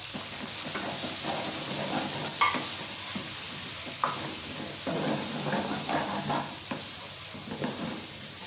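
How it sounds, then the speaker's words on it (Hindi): Grated onion fries in a pan for fish curry, giving a continuous close sizzle and hiss broken by soft scraping stirs at irregular intervals. "प्याज को अच्छी तरह से गोल्डन ब्राउन करना है"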